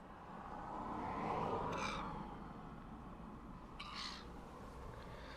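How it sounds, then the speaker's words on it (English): Two short harsh seagull calls ring out over steady low traffic-like rumble in Launceston, Tasmania, one early and one near the end, moderately distant. "I think these seagulls expect too much."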